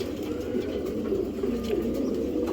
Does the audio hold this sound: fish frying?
no